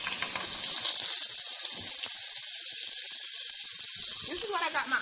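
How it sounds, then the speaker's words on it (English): Minced garlic sizzles in a hot pan over medium-high heat for a shrimp and broccoli stir fry, a steady bright hiss with soft crackles holding throughout, while a person talks faintly beneath it. "So you put your garlic in here."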